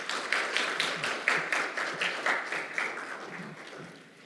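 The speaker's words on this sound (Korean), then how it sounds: "다시 한번 큰 박수" An audience at a joint academic law conference applauds in a brisk, steady patter of many hands, which slowly thins and fades near the end, with no voices over it.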